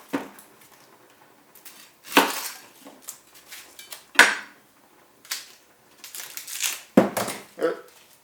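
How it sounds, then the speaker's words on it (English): A knife cutting up an onion in a home kitchen while making spaghetti bolognese, giving scattered, uneven chops and knocks on a board. Pans and utensils clatter between cuts, and there is occasional background talk. "cutting up an onion."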